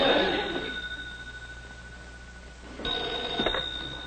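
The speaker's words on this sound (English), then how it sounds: "Make yourself useful and answer the phone." A 1950s telephone bell rings loudly in a room, one long ring fading out, a pause, then a second ring starting with a brief clatter near the end.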